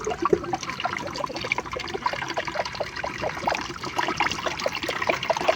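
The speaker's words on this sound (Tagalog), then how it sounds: "para naman makapaghugas ng plato" Dishes are washed at a kitchen sink under running water, with steady splashing, trickling and clinks of plates close by and continuing throughout.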